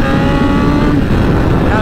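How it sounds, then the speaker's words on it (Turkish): Motorcycle engine revving hard under throttle, a loud, continuous close-up drone with a rising and falling pitch, heard alone without talk. "Yani şu gaza bastığım zaman tepkimeyi daha çok vermesi lazım."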